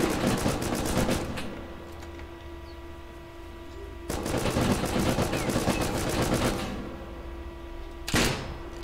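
Automatic gunfire in the survival game Rust comes in three rapid bursts, one long near the start, another in the middle and a short one at the end, loud and close with quieter gaps between.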